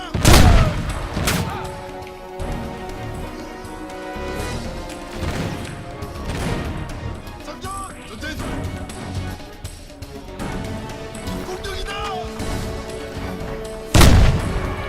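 Grenade blasts in the Crysis shooter game: heavy booming detonations, one loud near burst at the start and another near the end, with rumbling debris, scattered gunfire and battle noise between them.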